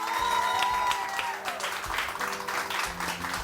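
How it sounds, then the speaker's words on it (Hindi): A studio audience on a morning show claps in a brisk burst, uneven and lively, with music and tonal sounds mixed in beneath the clapping. "तालियां जोर से 1 2 3 here we go."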